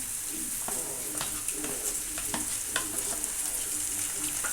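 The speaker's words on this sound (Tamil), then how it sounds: "இப்போ இஞ்சி பேஸ்ட்டு அரைச்சதை நம்ம சேர்த்துக்கிடுவோம்" Ginger garlic paste fries in oil in a pan with a steady soft sizzle, while a spoon scrapes and stirs in regular strokes close by; no one speaks.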